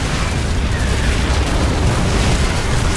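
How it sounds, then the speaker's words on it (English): Heavy Thor cannon fire in a StarCraft 2 battle against Broodlords, Corruptors and Zerglings: a dense, continuous wall of booming explosions and blasts, loud and sustained with no pauses. "Nice firing there by the Thors"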